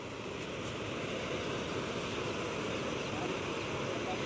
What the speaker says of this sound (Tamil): தண்ணி சத்தம்.